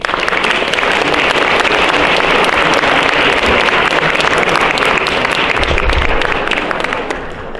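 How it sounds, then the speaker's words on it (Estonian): Audience applause fills a hall at a Christmas dance event after a kindergarten girls' dance group performs, loud, dense and steady clapping from a large crowd that eases slightly near the end. "Samuti ootame taas kord suurt aplausi."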